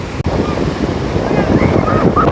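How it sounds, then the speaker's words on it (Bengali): Surf at Digha beach in West Bengal washes in as a steady, loud roar, buffeted by strong wind on the microphone, with one brief dropout near the start. "কে বলেছে দীঘার সমুদ্রে ঢেউ নেই"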